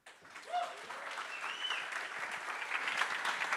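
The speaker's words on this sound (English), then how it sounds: "keep clapping your hands" Conference audience applauding after a live performance on a stage in Cape Town, with dense, sustained hand clapping that stays steady and fairly loud for the whole stretch, a few cheers and whistles rising briefly through it.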